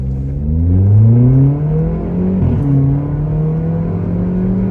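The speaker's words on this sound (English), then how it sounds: "So try to launch this." A Volkswagen Polo GT TSI with a modified exhaust, in manual mode, revs hard and pulls away, pitch climbing through a gear, dropping briefly at a shift, then climbing again; loud and close.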